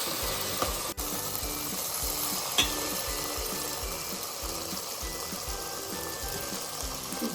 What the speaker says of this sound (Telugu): ఇప్పుడు ఇంకా చింతపండు రసం పోసుకున్నాం.